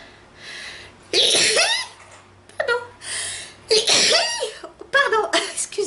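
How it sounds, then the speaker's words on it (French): A woman sneezes loudly at close range, with a sharp burst, in a quiet room, followed by her speaking. "Oh, je vais éternuer."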